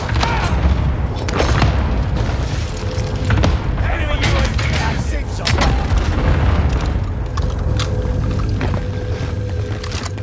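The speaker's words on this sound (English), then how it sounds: "Allied precision airstrike incoming." Precision airstrike explosions in a combat video game: a steady run of booming blasts and rumbling impacts over roughly ten seconds, dense and loud, with scattered sharper bursts and game voice callouts.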